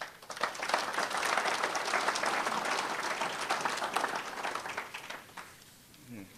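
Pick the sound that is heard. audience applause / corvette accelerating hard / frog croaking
audience applause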